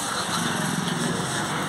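A motorcycle engine runs steadily on a long-distance bike tour through Rajasthan, a continuous loud buzzing drone close by with light wind noise and no clear talk.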